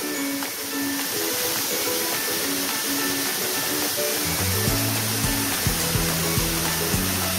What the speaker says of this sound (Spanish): É mais uma cascada!